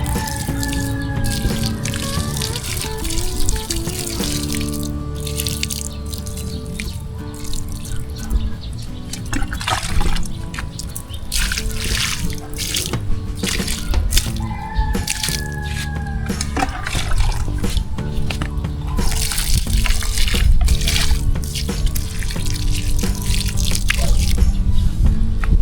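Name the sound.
water running or spraying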